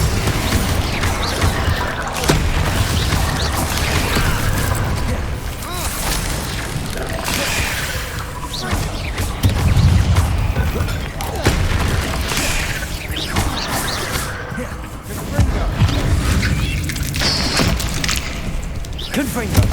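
Repeated heavy booms and thuds of Confringo blasting spells burst through a busy Hogwarts Legacy fight against spiders, with constant rumbling combat noise and a voice talking over it.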